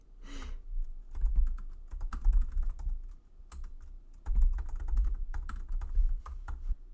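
Steady clattering keystrokes on a computer keyboard, typed in quick bursts with a brief pause midway, close and clear with no voices.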